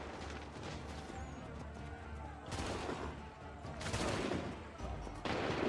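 Soldiers fire muskets in Assassin's Creed 3 during the Lexington and Concord battle, with dense crackling volleys bursting out in several waves over constant battlefield noise.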